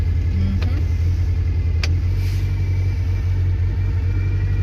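A Morris Minor engine warms up at idle in cold Scottish weather, giving a close, steady low rumble that runs evenly throughout, with no one speaking.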